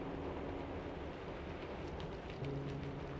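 Steady rain patters on the window panes of a train at nightfall, a dense even hiss with a low rumbling undertone and faint drips, constant throughout without talk.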